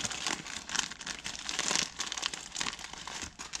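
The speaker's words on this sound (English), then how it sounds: "we're going to just rip the bag." A plastic bag of garden soil is torn and ripped open by hand, giving a continuous close crinkling and crackling with bursts of tearing over a few seconds.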